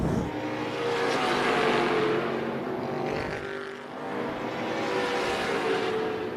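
Race cars roar around Tucson Speedway in a steady, dense engine drone that swells and dips as the pack passes, loud and continuous with no clear gaps.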